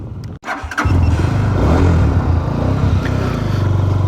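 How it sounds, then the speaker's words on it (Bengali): A motorcycle rides along a village dirt road in the afternoon, its engine catching after a brief sputter and then droning loud and steady close by, with a slight rise in revs toward the end. "এখন হচ্ছে হুন্ডা নিয়ে ঘুরতেছি মানে বাইক নিয়ে মাটির রাস্তায় ঘুরতেছি"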